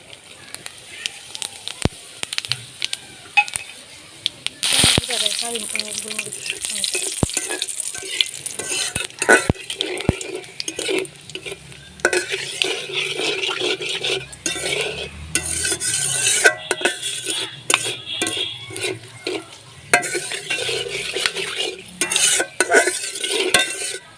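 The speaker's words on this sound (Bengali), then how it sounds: "মাছ ভাজার তেলেই ফোড়ন দিয়ে দেব। তেজপাতা, শুকনা মরিচ, গোলমরিচ, মৌরি।" A tempering of bay leaf, dried chilli, black pepper and fennel fries in oil left from frying rui fish. It sizzles close by while a spatula scrapes and clinks against the pan in repeated stirring strokes.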